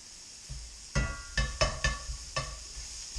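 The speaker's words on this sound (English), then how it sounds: "so I'll put the bacon in the frying pan" Bacon frying in a cast iron pan gives a steady, soft sizzling hiss, broken by several sharp clattering knocks as the pan and food are handled.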